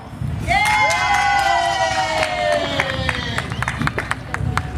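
Partisan crowd at an outdoor park concert, loud cheering and whooping with a rising shout, clapping and scattered voices throughout.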